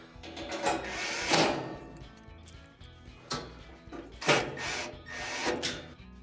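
Two quarter-inch screws are driven into the flame spreader inside a Frigidaire oven: bursts of scraping, grinding metal-on-metal turning come in several separate pulses with short quiet gaps between them, up close.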